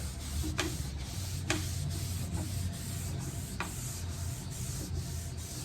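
Cloth wiping gel stain across ornate carved wood during antique furniture restoration, a steady close rubbing hiss with a few faint scrapes, no voices.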